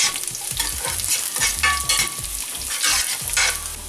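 Three cloves of sliced garlic fry with onions in a hot pan while being stirred. The sizzle is loud and close, broken by repeated scraping strokes of the spoon, with no voices.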